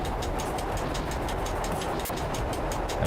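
A train in the driving game Train Driver 2 slows under braking with a steady, loud rolling rumble and hiss that holds evenly throughout, with no voices.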